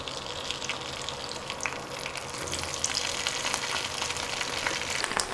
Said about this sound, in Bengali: তেল গরম হয়ে এলে ঢ্যাঁড়সগুলো দিয়ে দিচ্ছি।